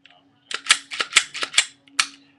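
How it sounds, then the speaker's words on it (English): A Smith & Wesson Sigma pistol, stainless steel, gets a safety check: a quick series of sharp metallic clicks and clacks close by, about eight in a row. "Safety check it. There's nothing in the barrel."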